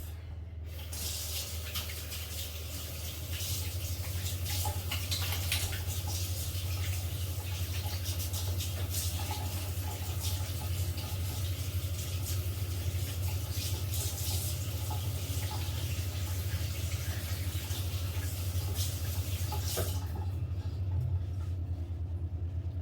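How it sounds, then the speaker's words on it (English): Tap water runs steadily into a sink while hands are rinsed, a continuous broadband hiss over a low rumble that holds for about twenty seconds and then cuts off, with no talking. "So I'm just going to go and rinse my hands off."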